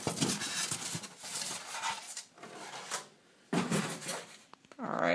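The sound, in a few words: opening a cardboard airsoft rifle box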